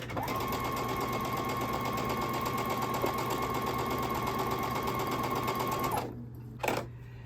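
A sewing machine chain piecing quilt block sets from cotton fabric runs in one loud, steady, unbroken stitching burst for about six seconds, then stops abruptly, followed by a brief soft thump.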